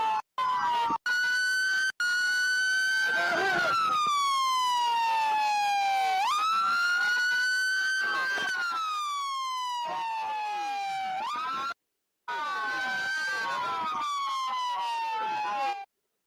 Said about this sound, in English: So he just runs back and shuts all the sirens off.